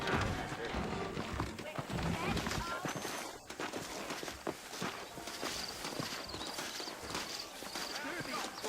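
Horse hooves clip-clop at a steady walking pace in the Western video game Red Dead Redemption, with saddled horses moving under ongoing spoken dialogue.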